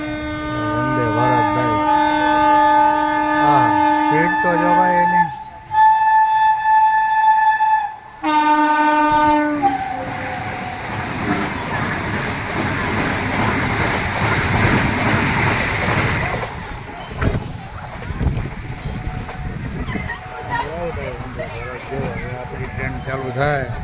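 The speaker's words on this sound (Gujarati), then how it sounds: "વંદે ભારત ટ્રેન આવે છે એના હાટું જઈને આપણે ટ્રેન ઊભી રાખી." A Vande Bharat train sounds loud horn blasts and then rushes past with a heavy roar and rattle beside a halted train, with voices talking over the noise.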